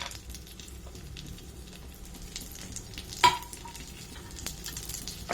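Cashews frying in a pan for kheer, a steady soft sizzle close by with faint stirring and a single brief clink of a utensil partway through, no talking.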